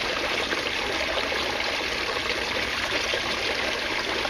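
Water pouring from six holes into an aquaponics grow bed makes a constant, close hiss of splashing and trickling that runs unbroken and alone.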